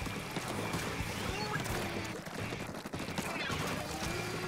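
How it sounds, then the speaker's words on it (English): Homing missile sub-weapons launch amid a Splatoon 3 match, giving a dense burst of whooshing, popping game effects over continuous battle noise and music. "Got the homing sub-weapon, and we've got the missiles."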